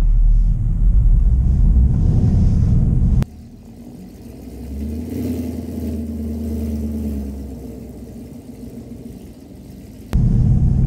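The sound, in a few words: car with bald snow tires fishtailing up snowy driveway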